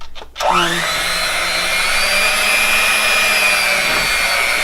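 Electric hand mixer beating pound cake batter, starting up after a brief knock and settling into a steady, close, continuous whir with a slight dip near the end.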